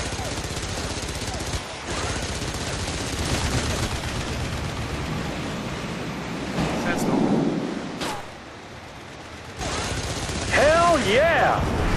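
Guns blaze in the TopGun Hard Lock flight video game, a loud continuous rattle of gunfire mixed with engine roar and a deep rumbling explosion midway, with a voice talking over it.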